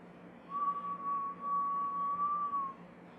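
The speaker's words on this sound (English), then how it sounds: "That's how you whistle." A single person whistles one long, steady, pure tone held for about two seconds, clear and close against a quiet background.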